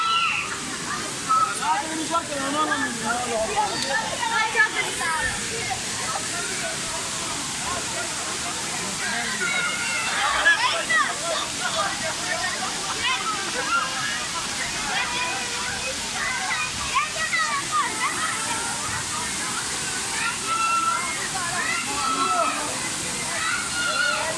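The Sabun Çayı waterfall in Düziçi, Osmaniye, roars with a constant, dense rush of falling water that fills the whole scene, with voices faintly audible beneath it.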